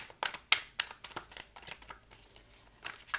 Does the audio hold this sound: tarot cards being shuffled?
yes